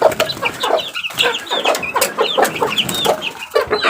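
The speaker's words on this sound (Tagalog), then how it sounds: "Kasi gutom na yung aking sisiw." A hungry chick being fed mashed banana and rice clucks and peeps in quick repeated bursts, close and loud, with short high chirps scattered between the clucks.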